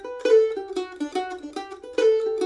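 Mandolin playing a short Fisher's Hornpipe phrase in an arrangement, a quick grace note standing in for a pull-off; bright plucked notes in a steady rhythm, close and alone.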